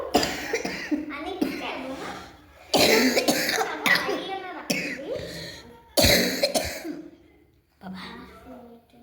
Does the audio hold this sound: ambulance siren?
no